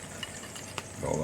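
Food fries in a cast iron skillet pulled partly off the burner, a steady close sizzle with a few scraping stirs, swelling louder toward the end.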